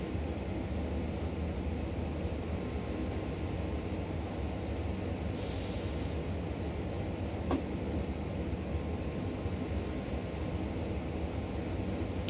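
A Class 33 diesel locomotive runs on the West Somerset Railway in Train Simulator 2018, a steady low engine drone with rolling rail noise throughout, plus one brief hiss and a faint click.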